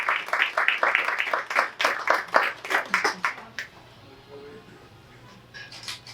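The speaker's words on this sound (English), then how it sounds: "So a round of applause, please." A small audience at an awards ceremony claps for an award winner, a few seconds of distinct, fairly close hand claps that stop abruptly, followed by quiet room tone with faint sounds.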